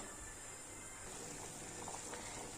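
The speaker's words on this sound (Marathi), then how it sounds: "येथे पाण्याला छान अशी उकळी आलेली आहे." A steady low bubbling and hissing of water coming to a boil in a pot on a full gas flame, continuous and fairly quiet, with no talking.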